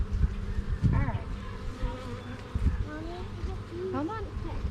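A bee buzzes close by with rising and falling whines as it moves around, mixed with rustling handling noises and a person talking.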